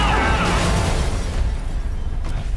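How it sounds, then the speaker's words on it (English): An exploding bulldozer in the Spider-Man PS4 video game, a loud, close, rumbling blast with a roaring burst that holds through the whole moment and slowly thins out. "The exploding bulldozer."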